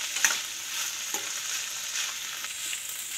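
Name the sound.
stirring beetroot palya stir-fry in a pan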